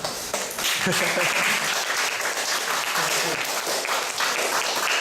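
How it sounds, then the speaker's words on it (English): A lecture audience applauding after a talk on popular beliefs and fairy tales, a full, sustained wash of clapping throughout, with a brief spoken word near the start. "Please give him a round of applause."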